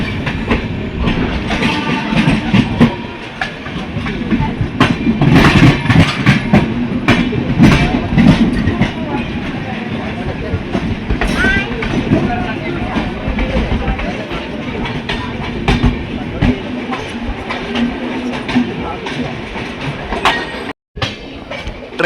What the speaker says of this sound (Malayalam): ട്രെയിൻ ഷൊർണൂർ ജംഗ്ഷൻ റെയിൽവേ സ്റ്റേഷനിലേക്ക് എടുത്തുകൊണ്ടിരിക്കുകയാണ്.